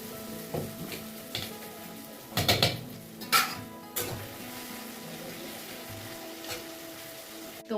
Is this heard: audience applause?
no